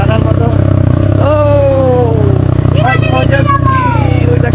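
A beach bike carrying riders along the beach at Inani gives a loud, steady engine drone throughout, with people talking over it.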